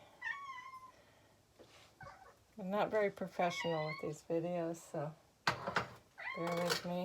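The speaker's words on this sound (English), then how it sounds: "And that's my cat behind me." A cat lets out a drawn-out, high meow at the start, close by, and then a person talks steadily through the rest.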